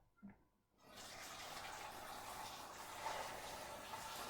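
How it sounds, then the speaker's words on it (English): After a brief knock, water pours steadily into a saucepan holding gammon, a continuous hissing, splashing rush that holds at even strength, close by. "and then top it up with water."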